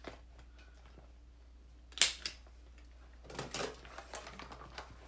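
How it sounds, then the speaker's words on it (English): A stapler driving staples through fabric in the seam allowance of a sewing-pattern saddle bag, one sharp click followed a second later by a cluster of quick snapping staple punches, close and fairly quiet. "I'm just gonna staple it in place"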